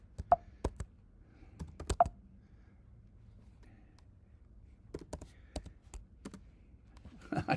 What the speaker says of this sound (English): I can't even type it.